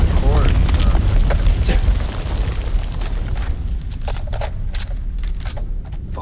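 A grenade explosion in the video game House of Ashes: a loud, broad booming blast with rumbling debris that fades over several seconds, while someone shouts over it.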